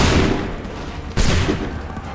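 Musket volley fire from a line of soldiers in Assassin's Creed III Remastered, a dense loud crackling fusillade with a second sharp burst midway, booming and reverberant, no talking.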